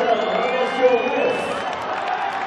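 Indoor hockey crowd at the 2015 Men's Indoor Hockey World Cup cheering after a goal in a tight Germany versus Netherlands match; a steady, roaring arena din runs beneath a commentator's voice.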